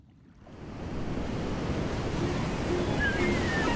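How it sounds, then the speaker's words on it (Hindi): Ocean waves roll in as a broad, steady roar of surf that swells up from near quiet within the first second, then stays loud and continuous with wind-like hiss, no voices present. "मुझे समुद्री लहरों की आवाज बेहद पसंद है"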